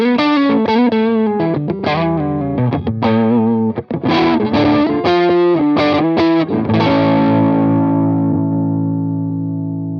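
Electric guitar played through a crunchy overdriven amp with a Marshall-style tone, a run of chords and riffs ending in a long sustained ringing chord, loud and upfront.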